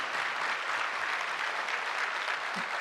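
Sustained applause from a large audience fills a government ceremony for the minister, a dense, even wash of clapping that holds steady throughout with no breaks.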